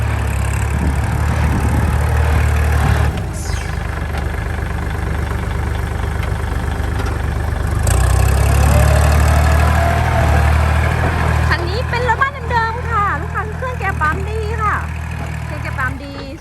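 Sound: Kubota L3608 tractor engine running

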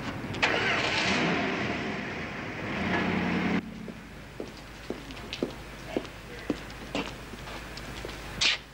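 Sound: car engine starting and driving off

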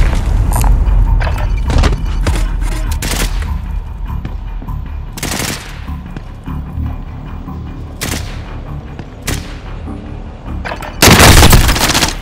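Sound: gunfire in Call of Duty Warzone video game

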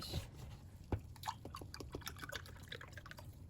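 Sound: milk being poured into cake batter

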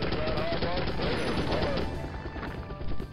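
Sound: enemy gunfire in video game M.I.A. Missing in Action

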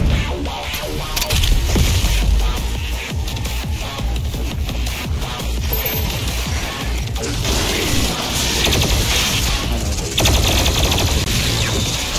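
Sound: enemies shooting guns in Doom Eternal, video game

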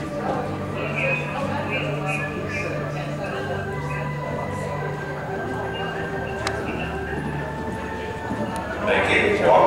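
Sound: horse cantering, hoofbeats at a horse show

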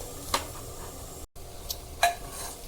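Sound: soaked basmati rice sautéed in tempering in a cooker

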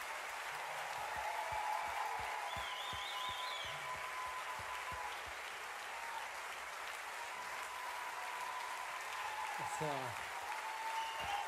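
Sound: applause

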